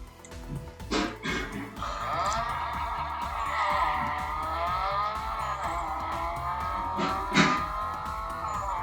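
In Need For Speed Underground 2, a car drifts down a mountain road with a revving engine whine and long tyre squeals, punctuated by a few louder bumps or impacts.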